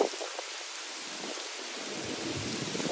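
Heavy rain in a thunderstorm makes a fairly faint, steady wash of broadband noise throughout, with low rumbling swells underneath and no voices.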